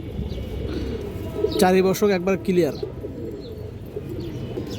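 Pigeons of a fancy coloured breed coo near at hand, one clear rolling coo rising in the middle, with a person talking around it.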